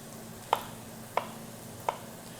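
Three separate knife strokes cut through potatoes on a board, spaced roughly half a second apart, each a crisp close thunk followed by quiet room tone with no talking.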